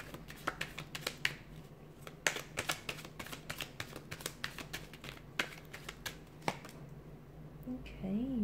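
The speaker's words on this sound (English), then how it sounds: "Let's give the cards a shuffle" Rapid crisp clicks and riffles of tarot cards being shuffled by hand, close up, with uneven bursts over several seconds and a brief faint voice near the end.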